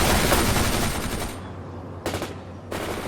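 An M60 machine gun fires in World in Conflict, a long rapid burst followed by two shorter bursts separated by quieter gaps, close and loud.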